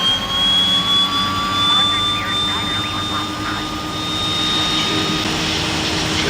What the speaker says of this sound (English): let's turn the generator on. Let's start the left engine.